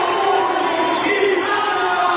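A crowd at a CrossFit regional snatch event roars and cheers continuously, a dense, sustained wash of voices at moderate distance.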